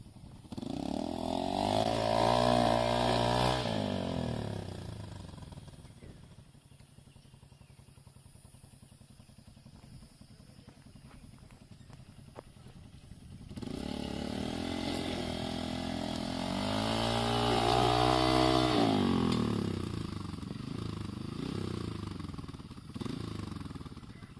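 A Hero Impulse motorcycle revs hard trying to climb an off-road incline into a valley, its engine straining in two long loud bursts with a quieter idling stretch between.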